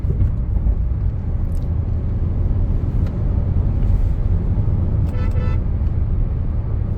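A Hyundai Creta cruising at close to 100 km/h, with a steady loud road and engine rumble throughout and a faint horn toot partway through.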